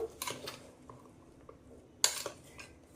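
Mutton curry with masala is stirred in a pot, and a metal spoon scrapes and clanks against the pot in two short bursts, with quiet pauses between them.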